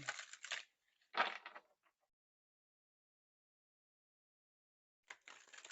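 Tarot cards from a Rider-Waite deck are shuffled on a tabletop, giving short bursts of riffling and flicking: two quick rustles, a long silence, then another shuffle starting near the end.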